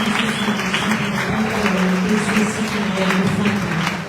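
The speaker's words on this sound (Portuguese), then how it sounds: "Aplaude mais uma vez para a glória de Deus" A church congregation applauds at a solemn morning worship service, a dense, sustained roar of many hands clapping close by for several seconds, with faint voices mixed in.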